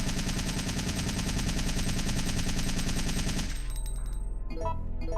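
Sustained automatic gunfire from the Resident Evil 3 video game rattles loud and dense for about three and a half seconds, then cuts off, leaving a few scattered lighter game sounds.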